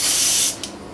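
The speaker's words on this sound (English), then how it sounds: "Now we're going to try putting 10 pounds of air in this tire" Compressed air rushes into a tire in a loud steady hiss, then cuts off abruptly, leaving a brief click and quiet.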